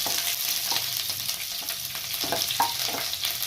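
Bay leaf, cardamom, cinnamon and chopped cauliflower fry in hot oil in a pan, giving a dense, continuous sizzle with occasional crackles and light stirring scrapes, close and steady, with no talking.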